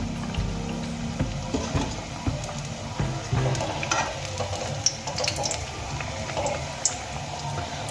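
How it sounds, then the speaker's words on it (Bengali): Potato-stuffed flour snacks deep-frying in hot oil, a steady close sizzle and bubbling with occasional light stirring clinks and scrapes throughout, no voices. "একইভাবে বাকি সমস্ত স্ন্যাক্সগুলো আমি ভেজে নেব"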